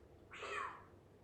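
A cat pal in the Palworld video game gives a single short, clear meow, rising and falling over about a second against a quiet background.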